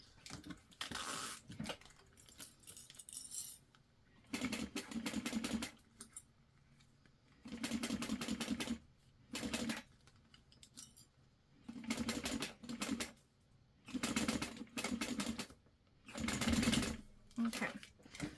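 Home sewing machine stitching a quarter-inch seam on a glitter shaker project, running in repeated short bursts of a few seconds each with pauses between, fairly close, alongside quiet background noise and occasional talking.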